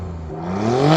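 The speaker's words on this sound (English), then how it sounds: "I've got an Italian engine and an Akrapovic exhaust system" An Alfa Romeo Stelvio Quadrifoglio's Italian engine revs hard through an Akrapovic exhaust, the loud, close tone climbing steadily in pitch for about a second with no talking over it.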